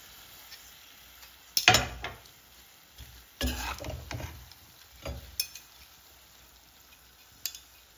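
Chicken keema being stirred in a frying pan, with a few distinct scraping strokes of a utensil against the pan over a faint background sizzle, separated by quiet gaps.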